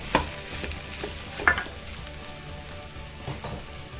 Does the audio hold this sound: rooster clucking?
no